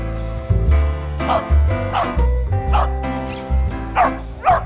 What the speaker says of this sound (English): She barks to show she's found the ball.